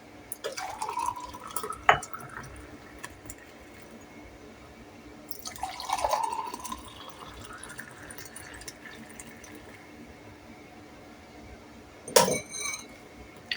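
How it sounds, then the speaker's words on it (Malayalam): Buttermilk (sambharam) poured into a glass, heard as three separate bursts of liquid splashing and trickling with light glassy clinks, close and fairly quiet, with pauses between pours. "നമ്മൾ ഗ്ലാസ്സിലോട്ട് ഒഴിക്കാം."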